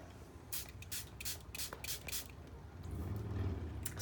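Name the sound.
shaking and spraying an oral brain enhancing spray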